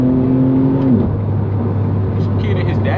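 A BMW G87 M2 accelerates hard, its engine droning loudly up close before the pitch drops sharply at a shift and settles into a lower, steady roar.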